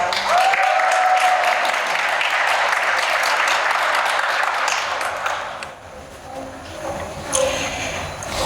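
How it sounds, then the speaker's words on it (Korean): Audience applause at a speech contest on a stage, a sustained wave of clapping that fades out near the end, with a few scattered claps after. "큰 박수로 무대 위로 불러봅시다."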